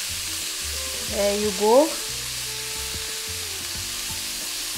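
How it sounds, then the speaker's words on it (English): Shredded cabbage thoran sizzles in a hot pan while being stirred, a steady soft hiss running throughout, with a voice speaking briefly over it. "Just give this a nice mix. I mean, look at the sizzle."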